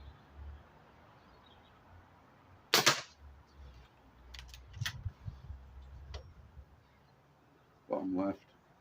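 A Lobo Mustang air rifle fires two sharp, distinct cracks several seconds apart, heard outdoors over a faint background with a few small clicks between them.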